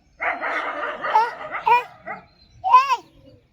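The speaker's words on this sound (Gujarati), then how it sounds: "હવે કૂતરો ભેગો થયો જો ખાસો બધો" Several dogs gather near a roadside and give a quick run of close, loud barks and yips, a short pause, then one more sharp bark.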